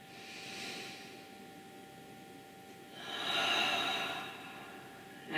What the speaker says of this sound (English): Take some deep breaths here.